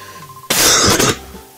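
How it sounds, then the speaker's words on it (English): One harsh, loud cough bursts out close to the microphone, a single rough blast of under a second that then fades into quiet. "sorry about my bad cough"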